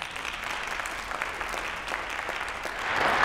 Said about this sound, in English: Can we just give that a round of applause?